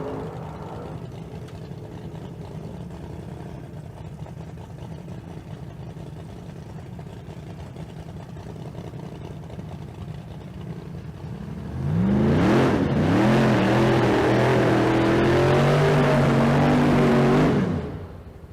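Street cars drag racing side by side at the Street Car Super Nationals in Las Vegas: a low engine rumble idles at first, then two engines roar up together, climbing through gears loudly for several seconds before cutting off.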